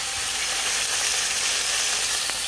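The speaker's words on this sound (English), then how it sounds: "that, folks, is the sound of a perfectly seared steak" Steak searing in about a tablespoon of ghee in a hot pan, giving a loud, steady, close sizzle with constant hiss and no talk.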